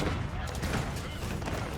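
Royal cannons of the Byzantines fire in an Age of Empires 4 battle, a dense, continuous barrage of booming shots blurring into one another under battle noise, with a voice talking over it.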